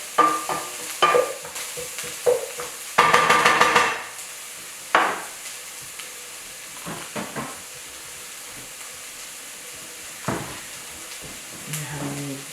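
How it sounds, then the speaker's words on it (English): Chili and garlic cooking in a pan during gnocchi preparation: a sizzling burst with scraping stirs and scattered knocks of a utensil against the pan, loudest early and fading to quieter clinks. "we're gonna add our chili and our garlic. I'm gonna continue cooking"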